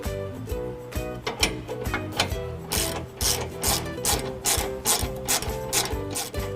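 Ratchet wrench loosening bumper mounting hardware on the driver's side of a 2018 Ford F-150, heard as rapid, repeated mechanical clicking bursts over a steady tonal background, close and fairly loud.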